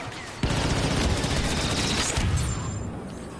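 A grenade blast in the Star Wars Battlefront 2 video game bursts in with a heavy boom, then a sustained roar of loud battle noise and gunfire that lingers for a few seconds before easing off.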